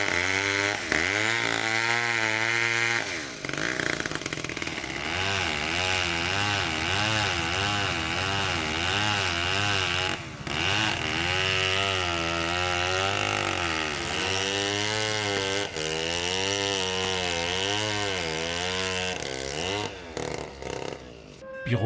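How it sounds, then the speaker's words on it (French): A chainsaw cuts through hard-to-split wooden logs in Douala, its engine whining loudly and wavering in pitch as the blade bites and eases through the wood. The sound runs nearly continuously. "tronçonneuse."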